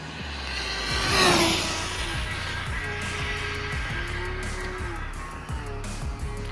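A Rlaarlo SBK10 Metal RC car making a speed run on 6S with stock motor and 47t pinion, a fast whining pass that peaks loudly near the start then fades, over outdoor background noise.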